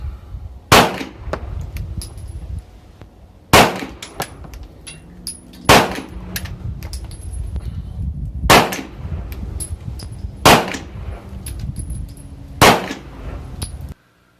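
Sharp single pistol shots from a full-size Walther PDP ring out about every two to three seconds, six in all. Each strikes steel targets with a metallic clang, against outdoor wind noise.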